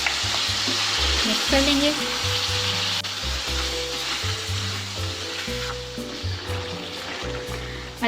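Chicken sizzles in a hot karahi as ginger garlic paste is added, a steady loud frying hiss with stirring clatter and some tonal hum, and someone briefly talks over it.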